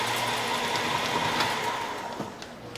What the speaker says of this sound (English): And this is the taping process from yet another angle.